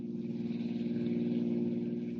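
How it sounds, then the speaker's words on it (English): Powerful black sedan speeds down a highway at night, a steady low engine drone with a slight pulsing rhythm, moderately faint and uninterrupted, with no talk. "a powerful black sedan speeds through the night, far out of town on a highway for the west"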